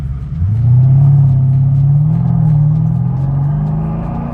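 A 2009 Mercedes-Benz SL550 with its traction control being tested revs hard and spins its wheels, the engine note rising into a loud, sustained low roar that swells and holds, close by with no talk.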